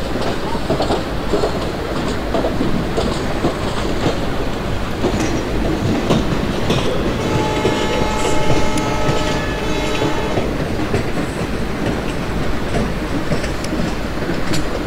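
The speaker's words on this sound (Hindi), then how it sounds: "Bhusawal Katni passenger departing from धसकेड़ा station" In the MSTS Open Rails simulator, a Bhusaval-Katni passenger train departs with a constant, loud rumble of wheels and rail clatter. A brief tonal horn-like note rises midway.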